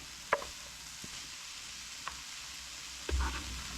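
Shredded coleslaw mix of purple cabbage and carrots cooks down in a pan with a soft, steady sizzle, broken by a few light clinks and a brief louder scrape near the end.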